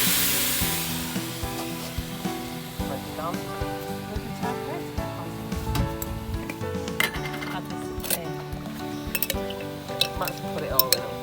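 Food fries in a pan at a summer camp cooking spot, a steady sizzle under clinks of utensils against pans and dishes, while someone talks nearby.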